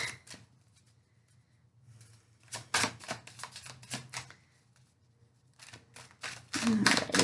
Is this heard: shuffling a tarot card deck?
yes